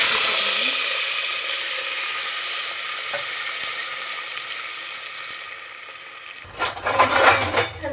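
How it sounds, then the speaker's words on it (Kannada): Avarekai sambar being stirred in a pot on the stove, with a steady sizzling hiss and faint scraping of the spoon against the metal, followed by a louder burst of clattering and frying near the end. "ಇವಾಗ ಮಿಕ್ಸ್ ಮಾಡ್ಕೊತಾ ಇದ್ದೀನಿ"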